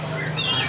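A chestnut-capped thrush gives a short, bright chirping call close by over a faint background hum.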